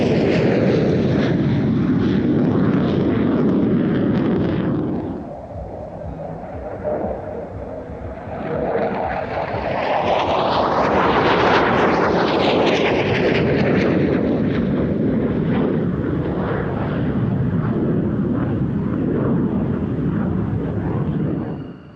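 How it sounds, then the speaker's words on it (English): An AMX International ground attack jet, the Brazilian A-1, roars through an airshow pass in Turkey, a loud rumbling jet that dips, then swells and peaks as it sweeps by, with no talking. "Amx International is a ground attack aircraft for battlefield interdiction, close air support and reconnaissance."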